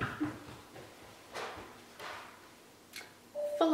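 A desk organizer drawer slides open with a soft scraping rustle and a few light knocks and ticks, heard close and fairly quiet in a room.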